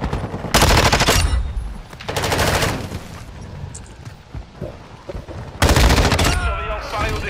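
M13 rifle in Call of Duty Modern Warfare fires three loud full-auto bursts, each lasting about half a second to a second, with quieter gaps and background game sounds between them and some voice chatter toward the end.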